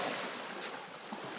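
Ocean waves wash and break on a beach in a steady broadband surf roar with a little wind, no voices or barking standing out.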